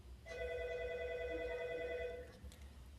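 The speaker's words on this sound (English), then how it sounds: "The phone's ringing there." A telephone rings once in a long, steady tone that lasts about two seconds and is fairly faint against a low background hum.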